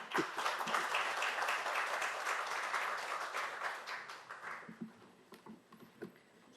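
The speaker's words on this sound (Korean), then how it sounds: "박수로 맞이해 주시기 바랍니다." An audience at a Korean public forum on young adults with borderline intelligence welcomes a speaker with applause. The clapping is full and dense, then thins into a few scattered, isolated claps before fading out.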